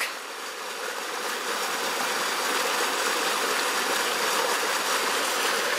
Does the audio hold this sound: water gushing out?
yes